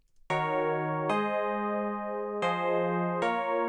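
A bell-like Yamaha DX7-emulation electric piano synth plays four sustained chords in sequence, clean and bright, with nothing else in the background.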